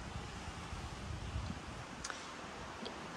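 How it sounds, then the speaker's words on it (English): Low, steady wind rumble buffets the microphone, with faint rustling and a couple of small distant ticks, no talking. "It is fairly windy here, so hopefully the vocals will be okay."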